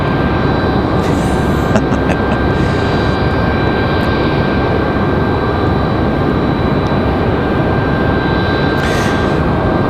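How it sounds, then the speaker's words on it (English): A JetBlue airliner arriving from Boston at Raleigh-Durham International roars loudly and steadily, its jet engines holding a constant, broadband thunder with no voices. "JetBlue 2783 coming at us from Boston"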